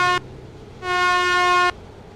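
Truck horn in American Truck Simulator, two blasts: a brief toot followed by a longer, steady honk of almost a second, loud and close with no talking.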